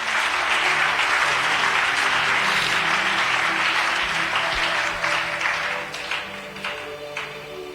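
A church congregation in Lubumbashi applauds and cheers through a steady, loud wash of clapping that thins slightly toward the end.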